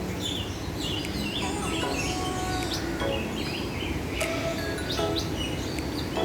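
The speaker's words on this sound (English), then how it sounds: "So many birds." Many birds chirping and calling inside Edward Youde Aviary in Hong Kong Park, a dense layer of overlapping tweets and song phrases against a steady outdoor hum, with occasional faint talk.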